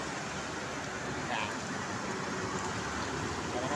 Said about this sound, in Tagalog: Bumubuhos ang ulan dito ngayon.